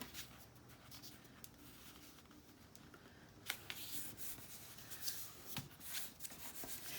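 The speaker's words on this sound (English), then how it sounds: "So we're going to go ahead and fold these in, try to make them even" Double-folded paper pages are creased and pressed flat for a handmade black and white journal, giving soft, close rustles and scrapes with a few sharper crinkles, quiet and without talk.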